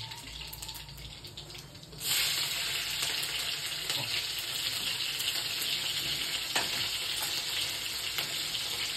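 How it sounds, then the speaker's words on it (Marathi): Spices are tempered in hot oil, starting with a quiet sizzle that suddenly jumps to a loud, steady crackling hiss of frying as they hit the pan, with faint clinks underneath. "तेल जरा तापले, कुरकुर वाढलेली आहे जरा"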